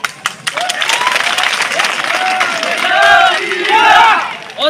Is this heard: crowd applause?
yes